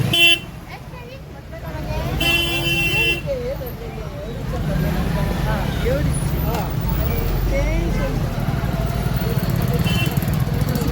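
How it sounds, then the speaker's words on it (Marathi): Busy road traffic near the weekly market in Dodamarg, Sindhudurg, roars continuously, with motorbikes passing and repeated horn honks, while a person talks over the din. "थोडंसं ट्रॅफिक आहे भरपूर"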